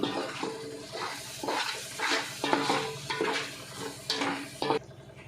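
Tomato pulp from two small tomatoes being stirred into hot oil in a pan for a Nellore-style fish curry: repeated scraping, clattering strokes of a spoon against the pan over a soft sizzle, close and steady, with no talking.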